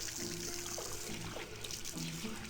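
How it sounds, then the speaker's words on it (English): Water pours steadily in an adventure game, a continuous trickling splash with a few brief tonal game sounds over it and no talk. "That water is really wet."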